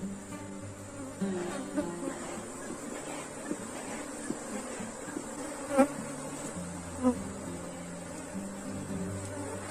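Africanized honey bees buzz around a colony during a hive inspection, a steady drone with several tones, joined by a few sharper passing buzzes and light knocks, at modest level.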